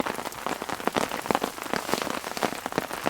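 Heavy rain pours down on a campsite during a stormy night of camping, a dense, steady hiss of drops drumming close by on surfaces with no break and no voices.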